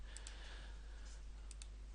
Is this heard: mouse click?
yes